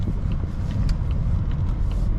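A 2021 Volvo S90 T6 R-Design accelerating on the road, a steady low engine and road rumble sustained throughout, heard from inside the cabin with no talk.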